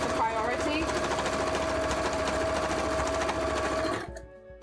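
A sewing machine runs steadily and loudly while stitching a cosplay costume, its fast even whir holding for about four seconds before it slows and stops; a voice talks faintly underneath.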